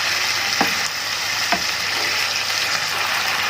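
Alexandrian-style liver fries in a pan with a loud, constant sizzle up close, broken by two quick scraping strokes as it is stirred.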